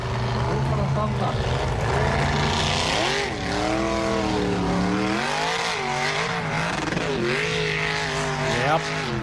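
A specially modified off-road car at the 2006 Hella event in Iceland revs hard on the track. The engine whines up and down in repeated surges as it turns, loud and close throughout.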